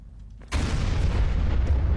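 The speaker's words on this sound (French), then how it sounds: "C'est quoi ces explosions?" A sudden loud blast bursts in after half a second of low rumble, then a sustained roaring, crackling wash of noise continues to the end.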